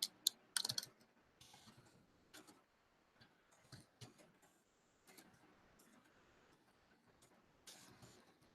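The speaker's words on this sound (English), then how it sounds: "Let me type in the chat." Quiet, irregular clicks of a computer keyboard come in short bursts of typing with pauses between them, close and faint, with no talk.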